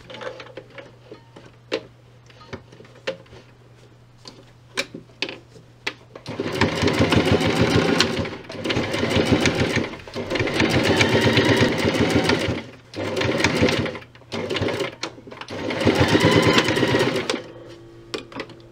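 A sewing machine stitching seams on a fabric medical mask runs in several loud, steady bursts of rapid needle chatter lasting a few seconds each, separated by quieter pauses with small handling clicks.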